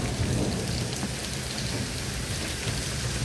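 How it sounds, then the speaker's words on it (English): Heavy rain pours steadily through a severe supercell thunderstorm with high winds, a loud continuous roar with thunder rumbling low underneath, no voices. "Yeah, the storm is getting bad right now."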